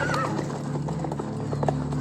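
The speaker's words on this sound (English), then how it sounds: "with the many spare horses all tethered together" Horses neigh and whinny while their hooves clip-clop steadily, a group of spare horses tethered together moving close by in a continuous, fairly loud stretch.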